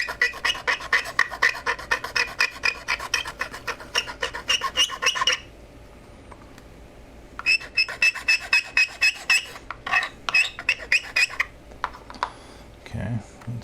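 A nano glass file is rubbed back and forth across a small scale model part in rapid, rhythmic strokes that make a gritty, high-pitched screech. The filing comes in two long bursts with a pause between them, then a few scattered strokes, and is close and clear.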